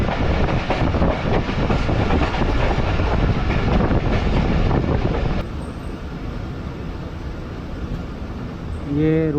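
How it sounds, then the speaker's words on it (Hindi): Khyber Mail passenger train in Pakistan slowing toward a station, a loud continuous rumble and rattle from inside the carriage that drops to a quieter hum partway through. "ट्रेन अब आहिस्ता हुई है, लगता है कोई स्टेशन आ रहा है।"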